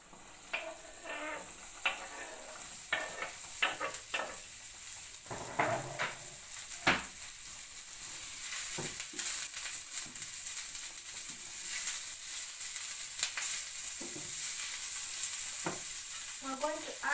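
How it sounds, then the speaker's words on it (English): Minced onion sautés in a pan, giving a continuous hissing sizzle that grows a little louder over time, with scattered clicks and utensil taps as it is stirred. "Then add 1 minced onion."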